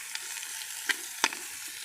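Chicken coated in spice paste grills on a hot surface, giving a soft, steady sizzle with two brief, sharper crackles standing out near the middle.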